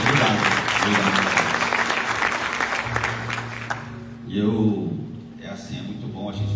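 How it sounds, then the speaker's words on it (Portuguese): A church congregation claps in an extended round of applause at a worship service, with voices over the clapping, which fades before a brief swell of speech. "Uma salva de palmas para Jesus."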